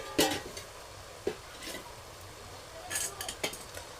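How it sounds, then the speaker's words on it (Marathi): Cooked leafy greens with potato stirred in a pan, several scattered scrapes and clinks of a spoon against metal at irregular intervals, close and moderately loud over a low background. "आता तिला मी ढवळतो परत."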